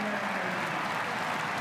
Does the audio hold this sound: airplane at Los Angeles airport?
no